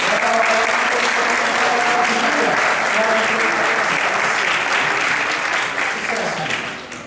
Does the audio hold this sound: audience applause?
yes